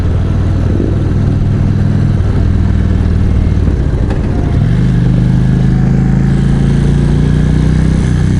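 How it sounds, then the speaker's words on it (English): An Indian Vintage motorcycle engine buzzes at speed around 3,500 RPM, a loud, steady mid-pitched drone with a brief dip and shift in pitch midway, close and continuous over wind noise, with no talk. "The bike buzzes quite a bit"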